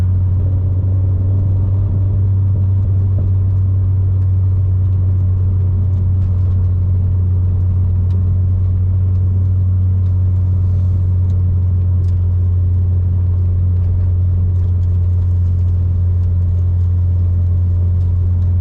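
A turbocharged four-cylinder car engine at 42 psi boost drones steadily under load through a fourth gear pull, a deep constant rumble with no voices.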